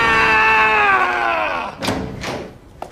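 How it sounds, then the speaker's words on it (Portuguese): A person lets out a long, loud scream in a night-time drama scene, the cry sliding downward and fading, followed by a couple of dull thumps and a brief sharp knock. "Eu ouvi gritar."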